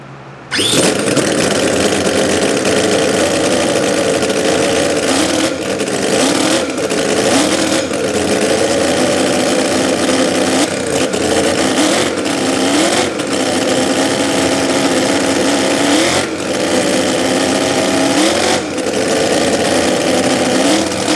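Stinger 609 engine on a 1/4 scale Grave Digger monster truck revving hard and continuously, loud and close, with repeated throttle swells over a steady high drone and no talk.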